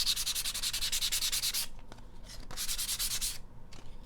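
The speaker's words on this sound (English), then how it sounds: "if you just want to sand the sides of your wood, hold your sandpaper kind of at an angle just along the edge of your piece" Sandpaper rubs along the edge of a piece of wood in quick, close back-and-forth strokes: a rapid rhythmic rasp, a brief pause, then another short burst of sanding.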